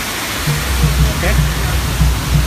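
Waterfall at Flying Mountain in Disney's Pandora: a loud, steady broadband rush of falling water runs throughout, with someone talking over it.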